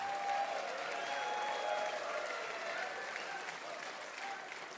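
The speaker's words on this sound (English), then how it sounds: "Give yourselves a big round of applause" Audience applause at a bluegrass livestream concert, a steady wash of many hands clapping with faint cheering, held evenly for several seconds at a moderate distance.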